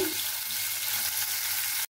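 A large onion and cauliflower fry in hot oil in a pan, a close, steady hissing sizzle that runs on without a break and cuts off abruptly at the end.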